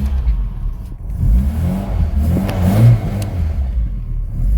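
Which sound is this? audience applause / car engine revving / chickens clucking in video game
car engine revving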